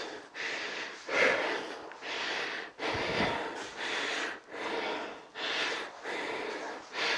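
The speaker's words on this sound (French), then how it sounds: "Soufflez bien." Forceful rhythmic exhales during dumbbell lunges, a series of about seven breathy puffs spaced roughly a second apart, close and fairly quiet.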